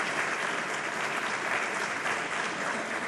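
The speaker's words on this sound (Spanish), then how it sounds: "otro aplauso para Varillas" An audience claps loudly for a bagpiper at a traditional music memorial concert, a thick, sustained burst of applause filling the room without pause.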